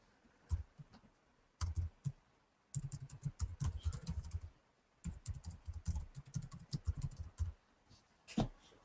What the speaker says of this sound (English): so if I type a URL here